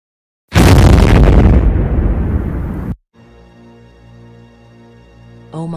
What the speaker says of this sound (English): And I think that the helicopter died. We heard explosions.